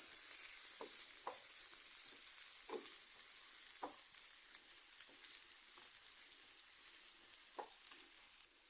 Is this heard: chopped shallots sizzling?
yes